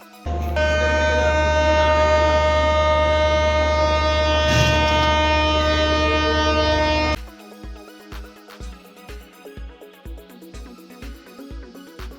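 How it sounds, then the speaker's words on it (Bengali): A passenger train on the Rajshahi to Kolkata route sounds a loud, sustained horn for about seven seconds. It then pulls away with a rhythmic, repeating clatter of wheels. "আমার ট্রেনটি ঠিক ভোর ছয়টায় হুইসেল দিয়ে যাত্রা শুরু করলো"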